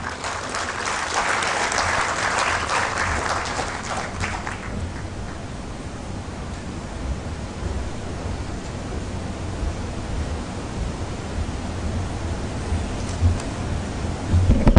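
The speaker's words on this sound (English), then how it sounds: "Can we give His Excellency another round of applause" Conference audience at a Uganda–Kenya coast tourism event applauding after a speech, a dense, loud wash of clapping that swells at the start and then continues steadily at a slightly lower level.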